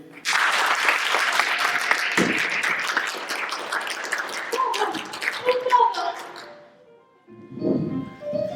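Theatre audience applause at a stage production of Peter and the Starcatcher, a dense wash of clapping that fades out after about seven seconds, followed by a voice speaking on stage.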